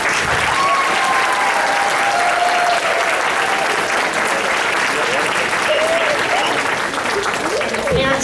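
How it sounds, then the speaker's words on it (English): A school concert audience gives sustained, loud, dense applause for a sixth-grade band, steady throughout with a few voices and cheers mixed into the crowd. "So I'd like to give them a round of applause for that."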